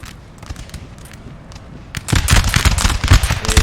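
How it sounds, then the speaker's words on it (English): Artillery fire in Napoleon Total War during a multiplayer recreation of the 1815 Battle of Quatre Bras: scattered distant booms at first, then from about two seconds a dense, loud barrage of overlapping cannon blasts and rattling volleys. "Look at the artillery going off in the background though"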